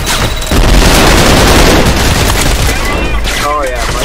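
Heavy gunfire in the shooter game Trepang2, a loud, dense burst of rapid shots and booming impacts that runs almost continuously, with a voice talking over the din.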